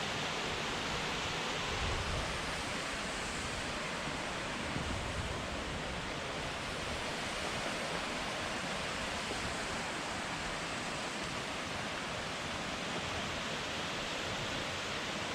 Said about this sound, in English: Big falls are up here. You can see directly in front of me. As it cascades down.